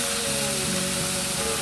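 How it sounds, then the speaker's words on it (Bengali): Shrimp with chopped onion, garlic and green chillies sizzling in a pan as chopped leafy greens are added, a steady close hiss of frying with no talk. "পেঁয়াজ, রসুন কুচি, কাঁচামরিচ, চিংড়িগুলো কষিয়ে এর মধ্যে কাটা শাকগুলো দিয়ে দিলাম"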